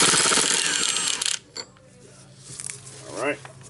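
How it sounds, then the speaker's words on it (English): A wrench working a wheel nut off an MK4 Supra during a wheel stud install, starting with a sustained loud grinding whir, then a few metallic clicks and creaks, close, with no talking. "Now I'm going to take the nut off."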